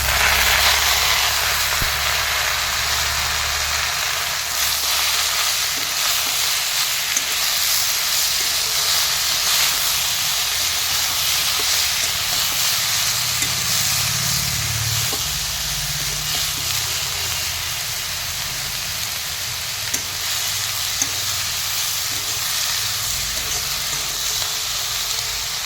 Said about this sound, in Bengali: সবজিগুলো আমি হালকা নাড়াচাড়া করে ভেজে নিয়েছি